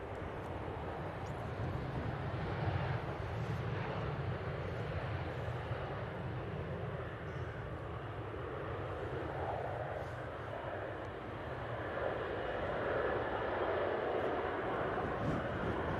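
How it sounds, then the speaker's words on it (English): An EasyJet airliner departing Manchester Airport for Paris Orly: a steady, distant low engine roar and rumble that holds evenly throughout, with a little wind noise. "the EasyJet that just departed is going to Paris Orly"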